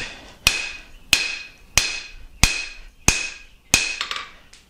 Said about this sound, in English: move it to the edge of the anvil, and just thin that out just a little bit